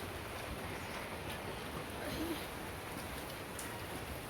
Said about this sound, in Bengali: এই যে বৃষ্টিটা জলের মধ্যে পড়ে ওই যে ফুটকি ওঠে